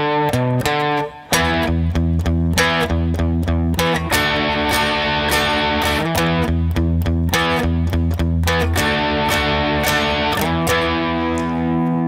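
Distorted electric guitar plays a chorus riff slowly, heavy chugging power chords and sustained notes ringing loud and close for the whole stretch, with one brief pause near the start and no talk.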